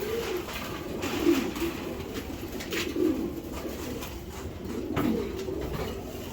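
A racing pigeon from a strong bloodline coos in low, repeated rolling phrases, close and clear, with soft background noise and no talk over it.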